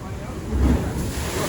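Sea waves at Jalandhar Beach in Diu, near a seaside temple, wash in as a steady broadband roar with a slightly louder surge midway, mixed with wind buffeting the microphone.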